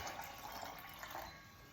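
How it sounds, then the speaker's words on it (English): Cold tap water runs steadily into a NutriBullet blender cup, a continuous close hiss and gurgle of filling liquid with no pauses and no talk. "So I've already filled up some cold water. I'm gonna fill it up."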